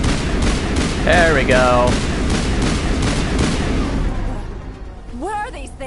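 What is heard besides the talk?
gunfire in Mass Effect video game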